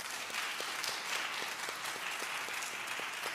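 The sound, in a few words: audience clapping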